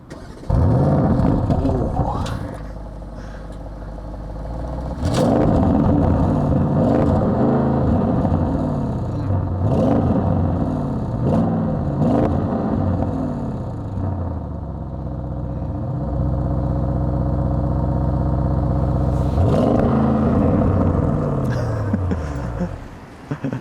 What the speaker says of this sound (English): this one here has the sport exhaust, which let me fire up that engine